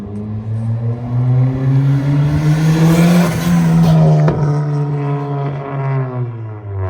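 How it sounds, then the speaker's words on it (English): A turbocharged Honda Civic with a custom full exhaust idles roughly close by, then revs up and settles, with a deep rumbling exhaust tone and crackles. "So far, car sounds so good"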